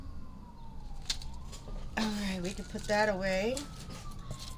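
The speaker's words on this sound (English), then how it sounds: "Sorry about the sirens." An emergency vehicle siren wails outdoors at a distance, its rising and falling tone heard through the room behind a nearby voice, swelling louder toward the end.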